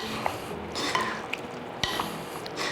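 A spoon stirs drained fruit cocktail in a bowl, giving a steady wet churning with a few sharp clinks against the side.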